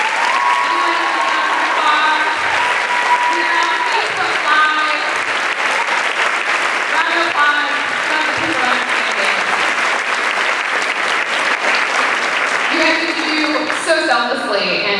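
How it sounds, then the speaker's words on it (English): An audience at a Beachbody coaching event gives a sustained round of applause for military service members, a steady, full clapping wash with cheers and voices rising through it. "I'm going to give a round of applause for any service members that we have today here with us that have served."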